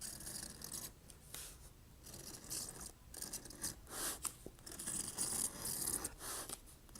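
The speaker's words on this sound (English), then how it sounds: "I will be scratching the border in here at about 1/8 of an inch in with the CS Osborne scratch compass" A CS Osborne scratch compass scores a border groove about 1/8 inch in from the edge of leather, making soft, repeated, quiet scratchy rasping strokes with no talk.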